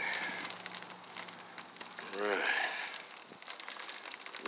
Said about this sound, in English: that is sizzling.